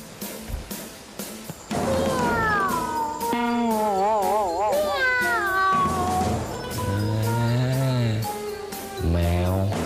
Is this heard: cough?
no